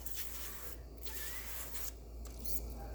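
Faint, hissing bursts of an avocado oil spray can sputtering in uneven spurts over breaded food, quiet and close, with short pauses between the sprays.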